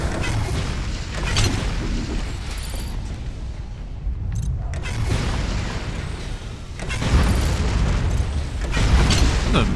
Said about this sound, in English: A big ass explosion